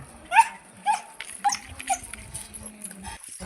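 A dog gives four short whimpering yelps at a steady pace, close by, with faint background noise between them.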